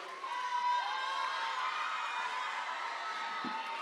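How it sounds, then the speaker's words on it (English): A school multicultural celebration crowd cheers for student performers, with a brief high whoop early on over a soft, steady wash of crowd noise that sounds somewhat distant. "Let's give another round of applause to all our performers!"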